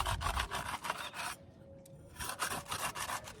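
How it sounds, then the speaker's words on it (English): A small trowel scrapes crumbling concrete and mortar away from a wooden form while repairing cement steps, producing a close, rough, rhythmic rasping with a short pause partway through and no voices. "So I'm gonna take my little trowel and I'm gonna kind of I'm creating some separation here"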